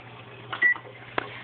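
A kitchen oven timer sounds a short electronic beep, then a second brief blip a moment later, fairly faint over a steady low hum with no talk.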